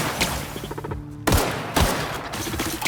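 Dense, continuous gunfire in the video game The Outer Worlds, a sustained burst of rapid shots in combat with plasma ammo, loud and up close with a brief lull before the firing resumes.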